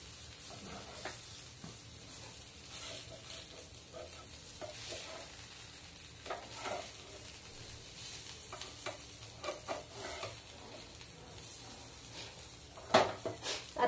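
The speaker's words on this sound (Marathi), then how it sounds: "छान खरपूस भाजून निघाली आहे।" Stuffed brinjals (bharli vangi) frying under a lid in a pan, giving a soft, steady sizzle with occasional stirring and a few pan clatters, ending in a louder clank; no one speaks.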